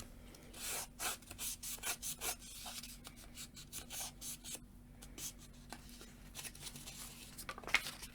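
Glued paper is burnished by rubbing, giving quiet, close scraping strokes in short bursts with small gaps and a faint steady hum underneath.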